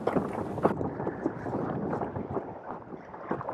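A gust of wind buffets the microphone while windsurfing on open water, a dense continuous rushing roar with splashing and gurgling chop, loud and close throughout with no voices.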